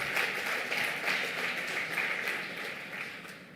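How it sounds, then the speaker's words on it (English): Audience applause at a Bengaluru business awards evening, a dense steady wash of many hands clapping throughout, fairly loud and sustained before easing slightly toward the end. "put your hands together in a huge round of applause"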